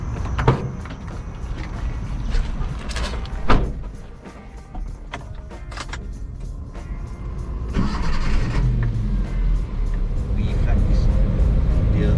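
A food truck's 1300cc four-cylinder petrol engine starts and rumbles, then pulls away and keeps running steadily, with a few thumps and clicks early on.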